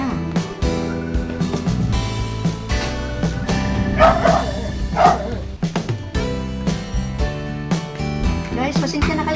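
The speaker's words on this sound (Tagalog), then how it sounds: "Maingay ang aming aso." A household dog barks and yips repeatedly in short bursts, loud and close, mixed with music and a voice talking.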